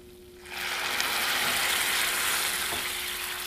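Pecans simmering in a sugary candy syrup after a shot of Fireball whisky goes in: a loud, close hiss and sizzle bursts up half a second in and keeps bubbling steadily to the end.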